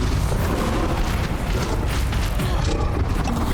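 A Bombarda blast spell detonates in Hogwarts Legacy, a dense, loud rumbling boom that fills the whole moment with heavy, continuous low-end roar and crackle.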